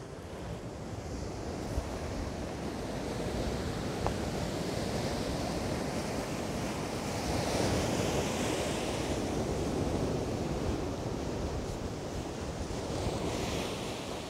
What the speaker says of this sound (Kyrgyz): деңиздин боюна келдик туугандар. Жер ортолук деңизи.